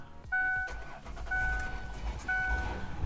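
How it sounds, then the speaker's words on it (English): A van engine, unstarted for a year and jump-started with a battery jumper box, cranks in several short bursts, then catches and settles into an idle, with a faint whine above the rumble. "That thing started this van after 1 year of sitting here and not working at all"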